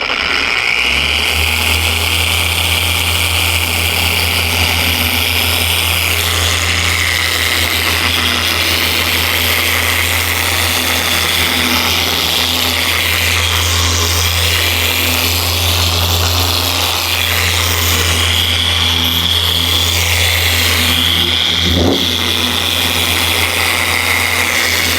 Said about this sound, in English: I'm gonna turn it on and I'm gonna go over this little curved section and it's still gonna rotate